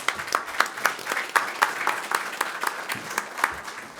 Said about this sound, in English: a round of applause to this first panel